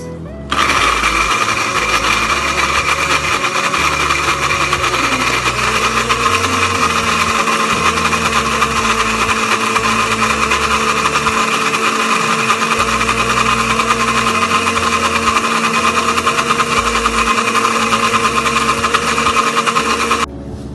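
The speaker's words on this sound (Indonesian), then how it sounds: "lalu kita blender hingga halus" An electric blender grinds cooking ingredients with frying oil into a smooth paste, a loud continuous motor whine that starts abruptly and runs unbroken for about twenty seconds before cutting off.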